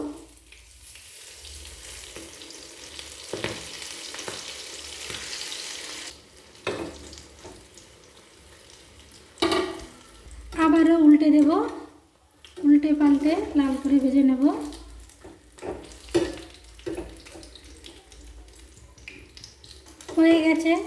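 Cabbage leaves dipped in gram-flour batter with egg fry in hot oil, a steady sizzle running throughout with occasional turning sounds, while a person talks over parts of it.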